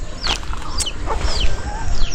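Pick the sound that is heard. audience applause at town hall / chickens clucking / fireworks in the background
chickens clucking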